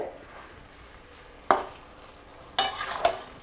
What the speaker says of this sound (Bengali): হলুদ গুঁড়োটা দিয়ে আবার ভালো করে মিশিয়ে দিতে হবে